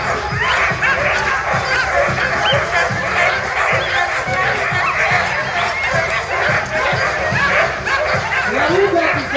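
A team of sixteen Alaskan Husky sled dogs, hooked up to pull a 10,000-pound truck, bark and yip excitedly in a dense, continuous chorus close by, with whimpers mixed in and people talking faintly underneath.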